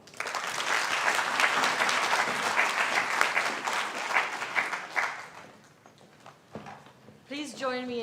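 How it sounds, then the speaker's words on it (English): An audience at a women's leadership climate action event gives a warm round of applause, dense clapping for about five seconds that fades out before a voice speaks. "Please join me in giving another warm round of applause for those incredibly thoughtful interventions"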